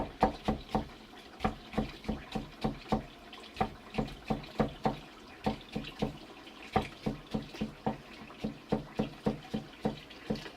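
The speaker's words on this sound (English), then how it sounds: "you definitely want to make sure you rinse out all the starch with some water" Tap water runs into a sink while potatoes are rinsed of starch, a close, steady splashing broken by quick rhythmic swishes as the potatoes are stirred under the stream, with no talking.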